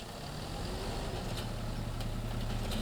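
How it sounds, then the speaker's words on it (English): Massey Ferguson tractor engine idling in the Farming Simulator game, a steady low diesel rumble with a faint tonal hum, continuous and even throughout. "I'll jump in my massive Ferguson tractor"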